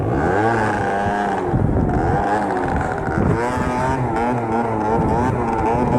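Small 50cc scooter engine held in a wheelie, revving constantly with rising and falling pitch as the throttle is worked to keep balance, loud and close throughout.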